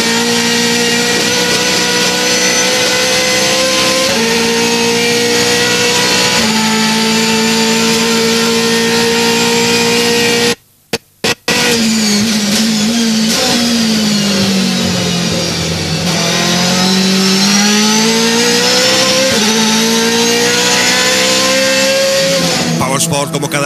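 Mercedes DTM race cars at Zandvoort, engines and exhausts loud and close, revving through repeated gear shifts with rising and falling pitch, a brief dropout midway, while a commentator talks over the roar.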